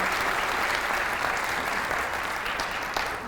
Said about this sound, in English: Let's give all of Miss Elmore's 22-23 students a big round of applause.